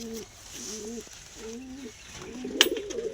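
A female Giribaz pigeon cooing up close, several repeated low throaty coos in a gentle rhythm, with a brief flutter or knock near the end.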